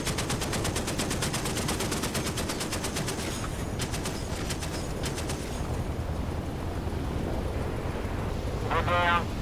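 Rapid bursts of automatic gunfire in the DCS World flight simulator, dense rattling volleys at first, then sparser shots before a lull and a short final burst, with radio-style voice chatter mixed in.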